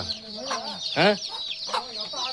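Hens in a village chicken coop cluck softly, with a few scattered calls close by over a quiet farmyard background.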